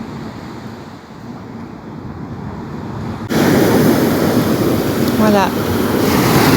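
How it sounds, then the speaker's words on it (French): Ocean waves break on a beach shore where oysters lie washed up, a broad continuous roar of surf with wind buffeting the microphone; the wash grows louder halfway through, and one brief spoken word comes over it. "je vous laisse profiter du bruit des vagues"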